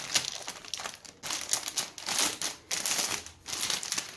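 Tape being pulled off the packaging of a Corsair K95 RGB Platinum mechanical keyboard, a continuous crinkly, crackling rasp in uneven surges over several seconds, close and fairly quiet with no talking.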